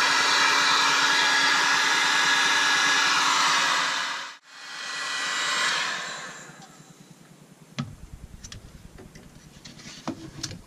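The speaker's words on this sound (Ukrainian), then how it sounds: "Беремо термопістолет." A heat gun blows a loud steady hiss while shrinking heat-shrink tubing in a workshop, dips briefly, then winds down and fades, leaving faint ticking and small handling sounds.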